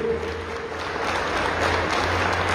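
An audience at a talk on Guatemalan independence in San Pedro Sacatepéquez applauds to welcome a speaker, a dense, steady round of clapping that holds at an even level throughout.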